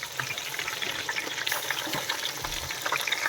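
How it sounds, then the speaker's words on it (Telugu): Mint leaves, fenugreek leaves, coriander and ginger garlic paste frying in a pan for street-style mutton dum biryani, giving a steady, close sizzle with bright crackling throughout and no speech. "ఇవన్నీ పచ్చి వాసన పోయే వరకు సిమ్లోనే పెట్టుకొని వేయించుకోవాలి"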